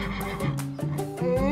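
A horse whinnies in a loud, wavering neigh with several rising and falling pulses, heard close and clear over a faint background.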